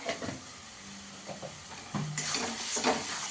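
Spice masala with Kashmiri chili powder for chicken keema and chola dal stir-fries in a pan, with a faint, soft sizzle and occasional quiet scrapes that grow slightly livelier toward the end.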